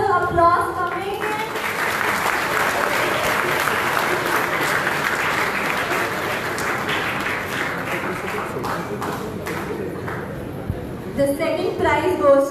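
Audience at a cooking competition prize distribution applauding prize winners; steady, fairly loud clapping runs through most of the stretch, with a voice speaking briefly at the start and end.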